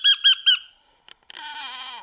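A parrot gives three quick, high, squeaky calls in a row, then after a short pause lets out a longer, wavering squawk, close and clear with no talking.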